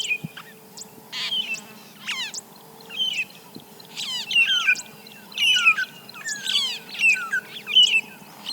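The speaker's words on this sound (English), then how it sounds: "I have a family of magpie shrike calling behind me." A family of magpie shrikes calls near a riverside spot at Zaagkuilsdrift on a summer morning, with repeated bursts of whistled, chattering phrases at close range over a faint steady background hum.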